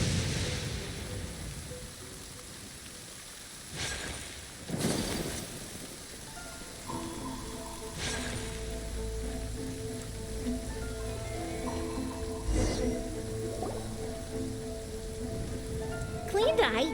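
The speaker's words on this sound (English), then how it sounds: "Let us find shelter from the rain." Rain falling in the video game Genshin Impact, a soft, steady patter of drops that continues throughout beneath faint musical tones and a few brief louder swells.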